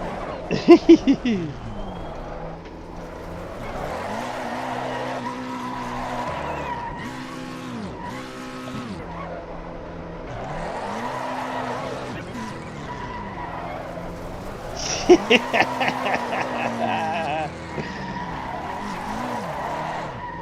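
Car tires skid and squeal as a race car does donuts in the Assetto Corsa Competizione racing game at Watkins Glen, the engine note rising and falling in repeated cycles with sharp bursts of squeal near the start and again later.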